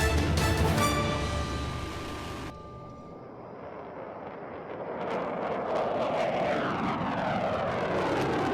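An F-35 fighter jet performing a maximum angle-of-attack power loop during a Paris air show demonstration, heard as a loud, continuous broadband jet roar that dips briefly and then swells again, with no talking.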